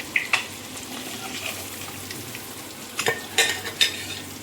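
Masala for an egg pepper roast cooks slowly in a pan on a low flame, giving a soft close sizzle with a few sharp utensil clinks and scrapes, with no talking.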